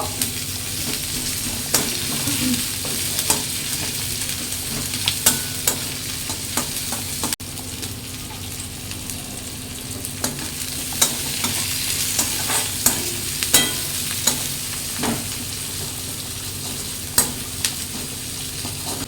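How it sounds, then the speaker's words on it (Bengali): Ground garlic, onion and tomato paste frying in a pan for a rohu fish kalia, a steady sizzle with repeated stirring scrapes and clicks, close and alone with no talk. "রসুন আর পেঁয়াজ বেটে নিয়েছি। ভালো করে লাল লাল করে ভেজে নেব।"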